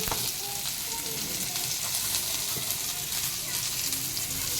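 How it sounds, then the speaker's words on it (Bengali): Bitter gourd frying in oil in a wok gives a steady, close sizzle and crackle throughout, with a few faint stirring clinks and no talk. "কড়াইতে তেল দিয়ে দিয়েছি আমাদের যে উচ্ছা দিয়ে দিয়েছি"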